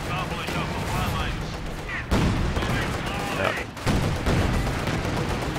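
A World War II strategy game battle where an anti-tank gun fires repeatedly among booming explosions and dense battle noise, with a commentator's voice running over it.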